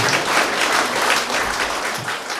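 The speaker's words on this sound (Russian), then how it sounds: "Ваши горячие аплодисменты." Warm, dense applause from a concert audience at a song performance, a steady roar of many hands clapping throughout, fairly loud and without speech.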